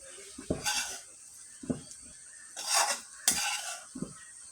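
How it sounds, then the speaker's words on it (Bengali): Fried pointed gourd being scooped from a pan into a bowl, a handful of separate scraping clinks of a spatula against metal with quiet gaps between them, close and fairly soft. "পটল ভাজিটাও হয়ে গেছে এটা আমি একটা বাটিতে উঠায় নিচ্ছি"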